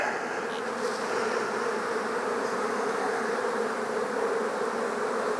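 Honey bees buzzing steadily around a hive frame during a swarm-cell inspection, a dense continuous drone close by with no talking.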